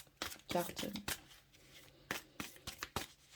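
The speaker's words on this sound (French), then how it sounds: "Je vais rebattre les cartes." A deck of tarot cards being shuffled at close range, with repeated riffling bursts and sharp slaps at a quick, uneven pace while a voice talks over it.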